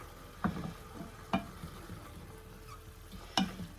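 Chili meat simmers in Worcestershire sauce with a soft, low sizzle, broken by a few distinct spoon knocks and scrapes against the pot at intervals.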